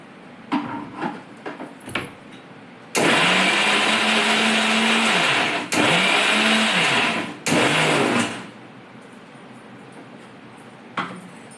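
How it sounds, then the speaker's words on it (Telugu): Cooled masala for a gravy whirring in a mixer grinder, run in three loud close bursts of a few seconds each with brief pauses between, with small handling knocks before and after. "మసాలా మిక్సీకి పట్టుకున్నాము."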